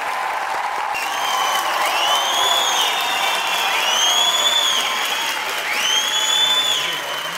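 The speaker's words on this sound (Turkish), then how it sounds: "Alkışlarınız Fatih Bulut için arkadaşlar." A Turkish TV comedy-show studio audience applauds and cheers a guest, with steady dense clapping and repeated rising whistles over the crowd, loud and sustained throughout.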